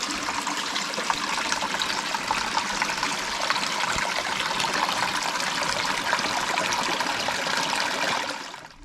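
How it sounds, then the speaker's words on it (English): Water pouring and rushing at an abandoned Victorian dam in the Brecon Beacons, a steady close broadband gush that runs unbroken, then fades at the very end. "Listen to the sound of the water."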